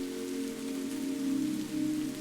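Rain falls steadily over an olive grove, an even, dense patter with a low continuous hum beneath it, unbroken and alone for the whole stretch.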